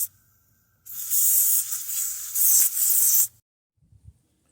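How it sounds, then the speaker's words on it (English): Penetrating oil sprayed from an aerosol can into a seized small engine, a bright hiss in a few sustained bursts with a short break between them, followed by quiet. "I'm gonna spray that down in there."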